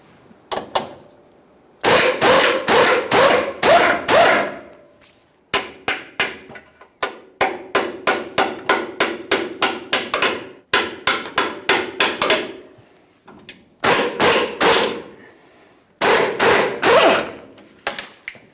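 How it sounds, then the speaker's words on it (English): Sharp metallic hammer blows drive out the forward mounting bolt of a front lower control arm on a 2015-2020 Ford F-150. The strikes come loud and close, in several rhythmic bursts of rapid hits separated by short pauses. "Let's continue on removing our forward mounting bolt."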